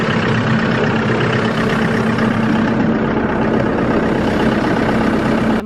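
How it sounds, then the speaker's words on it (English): Loud, close tractor engine running at a steady rough idle on a muddy farm, a continuous low diesel rumble with no breaks. "I better go get the tractor and get that turned on"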